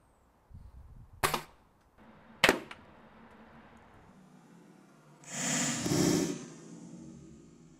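Webley .22 caliber air rifle firing pellets into a water-filled milk bottle: two sharp, close cracks about a second apart, then a rushing, splashing gush of water that swells and fades, all fairly quiet and with no voices.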